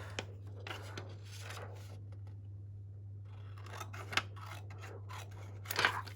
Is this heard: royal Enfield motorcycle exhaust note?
no